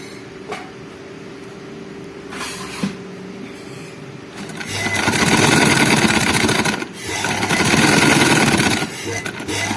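A sewing machine stitching cloth starts up after a few quiet seconds of faint handling, then runs with a loud continuous whirring rattle, briefly pausing and resuming close by.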